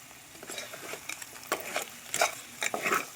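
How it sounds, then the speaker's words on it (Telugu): A spoon scrapes and knocks around a pan of crab curry as it is stirred, giving irregular clinks and scrapes that grow more frequent, with a faint sizzle underneath. "మగ్గుతుంటే మధ్య మధ్యలో ఇలా తిప్పుకుంటూ ఉండాలి."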